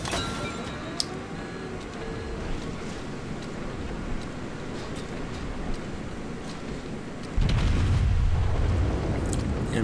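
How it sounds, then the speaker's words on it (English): Explosions from the enemy battleship Fuso being destroyed in a naval warship game rumble low and steady, with a few sharp pops, then a heavier, louder boom swells in the last seconds. "Enemy Fuso goes down."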